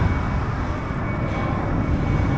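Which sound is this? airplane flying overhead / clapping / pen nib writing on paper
airplane flying overhead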